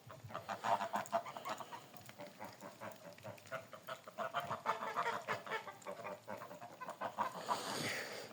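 A flock of big grey geese honking together in autumn, a continuous busy chorus of overlapping honks and cackles at moderate distance, fairly quiet and steady throughout.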